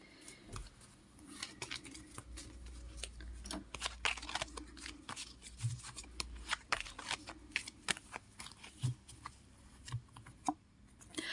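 Tarot cards are shuffled up close, making quiet, repeated riffling flicks and soft slaps in an uneven rhythm for several seconds, with no one speaking.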